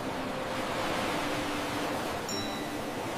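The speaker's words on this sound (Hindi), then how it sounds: "लहरों की आवाज" Broadband rushing surf of ocean waves washing onto the golden-sand beach at Gokarna, a steady, fairly soft wash with no talking.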